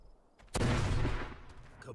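A burst of gunfire and a heavy explosion from the zombie shooter game Arizona Sunshine, a sudden loud blast after a quiet start that rumbles and fades over about a second and a half.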